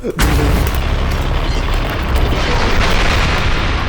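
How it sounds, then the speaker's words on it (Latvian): A bazooka shot goes off with a sharp, loud boom at the start, followed by a long, roaring rumble that holds steady to the end. "Tev viņš tulīt ar bazuku nošaus ar vienu šāvienu."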